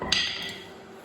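A single sharp metallic strike of a heavy hammer on a metal transmission tunnel panel rings out near the start, followed by a fading resonant ring.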